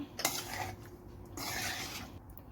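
Masala being mixed by hand into anchovies (netholi) in a bowl, giving soft close scraping and rubbing with a couple of light clinks against the bowl. The sound is quiet and uneven, and no one speaks.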